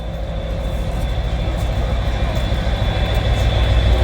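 A train rumbles and hisses steadily at a railway heritage gathering marking 200 years of the railways, loud and close, growing slightly louder, with no talk over it.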